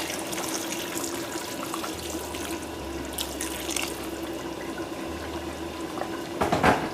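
Boiling water pours steadily into a pot of gilbaka fish curry with a continuous splashing rush, near and moderately loud, ending with a brief clatter.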